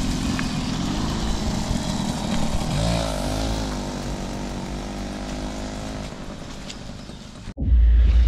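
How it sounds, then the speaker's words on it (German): Two moped racers drive past at a military vehicle meet at a former munitions depot in Dünsen, their buzzing engines loud and close for several seconds and then cutting off into wind noise. "bis die beiden Mofa Racer hier vorbeigefahren sind"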